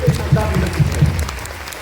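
Applause from the audience at a direct selling event comes through as a rhythmic patter with a few clear, regular beats at the start. It stays moderately loud and mixes with a voice over amplified sound, then thins out toward the end.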